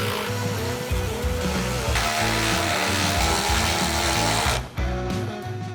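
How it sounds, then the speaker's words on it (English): Power tool buzzes steadily tightening the side bolts of rock sliders on a Toyota 4Runner, a close, continuous whirring with slight pitch changes that cuts off briefly near the end. "I'll tighten all the side bolts to suck it in"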